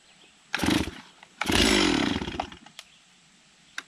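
A cold Stihl chainsaw with a replacement Chinese carburetor, set on choke with the decompression release pushed, is pulled twice; each pull brings a short rasping sputter, the second catching briefly before dying, followed by faint clicks.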